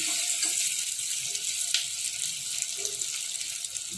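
Oil heating in a pan for Telangana-style spicy mutton liver, giving a steady, continuous hiss and sizzle that stays even throughout, close and moderately loud.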